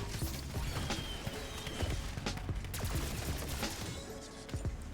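Rapid, dense gunfire mixed with popping Shatter Blast ammo mod explosions in Black Ops 6 Zombies, a continuous chaotic barrage of shots with a game-like sound.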